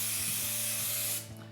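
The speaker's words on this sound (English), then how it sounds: "Turn it back and just spray the back." Spray basting adhesive hisses from an aerosol can onto the back of a quilt in one loud, continuous burst lasting over a second, then cuts off abruptly, leaving faint room noise.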